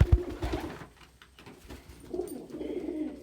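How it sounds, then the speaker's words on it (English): Pigeons cooing close by in a quiet indoor space: a soft low burst of coos at the start, a short pause, then another rolling coo toward the end. "Pigeons can taste exactly two things, salt and fat."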